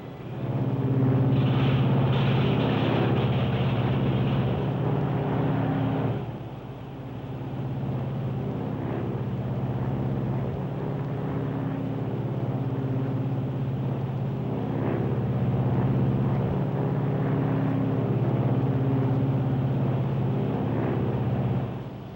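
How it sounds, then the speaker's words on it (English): A 1953 Lockheed Super Constellation airliner's piston engine unfeathers and comes up to power, a loud, deep droning rumble with throbbing harmonics that dips briefly then builds again, continuous and close throughout. "Okay, Hugh, bring in one. Unfeathering one."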